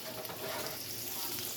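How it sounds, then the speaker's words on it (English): Steady crackling sizzle of Oscar Mayer bacon frying in a pan, continuous and close, with no voices over it. "frying up some bacon"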